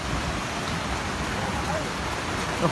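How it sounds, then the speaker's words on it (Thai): Heavy rain and hail pound down steadily during a hailstorm at an outdoor cinema crew's site, a dense, continuous roar with no breaks, close and loud, with faint voices now and then under it. "คงอันนี้คงเจอพายุลูกเห็บครับเปียกหมดเลย"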